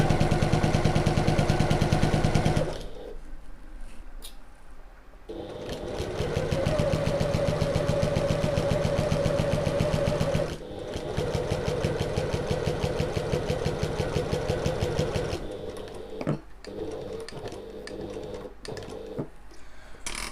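A sewing machine stitches a midi bag in steady running bursts, pausing briefly for short pivots between stretches of regular stitch length, close and fairly loud with no talk.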